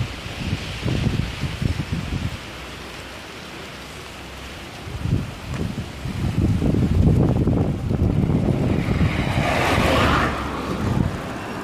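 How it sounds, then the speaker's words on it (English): Strong wind of about 50 km/h gusts down a litter-strewn Marseille street, rumbling and buffeting the microphone in uneven surges that swell louder midway and hold strong for several seconds, with no voices. "50 kilometres an hour winds blowing down here"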